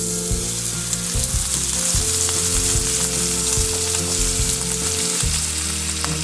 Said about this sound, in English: Now that it's smoking hot, in goes our steak.